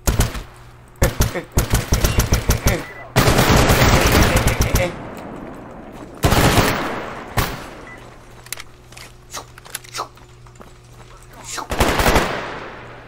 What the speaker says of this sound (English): Screw it, we're just going to shoot at him.